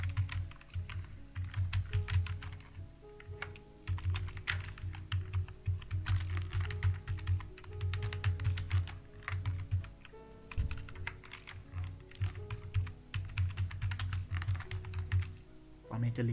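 Rapid, uneven keystrokes on a computer keyboard, continuous clicking in bursts with brief pauses, close and fairly loud.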